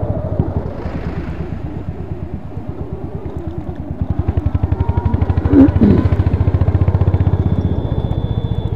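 A Royal Enfield Hunter 350 motorcycle on new CEAT xOOm XL tyres thumps along with a loud, close, pulsing single-cylinder exhaust beat that grows stronger and steadier partway through the ride.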